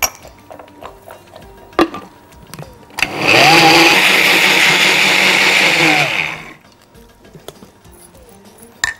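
An electric mixer beats eggs with vanilla and sugar, a loud, steady whirring burst lasting about three seconds, framed by light kitchen clicks and taps before and after.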